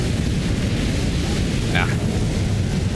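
Fire attack from the Godskin Duo boss in Elden Ring: a steady, loud roaring rush that fills the whole moment without a break, with a brief brighter flare partway through.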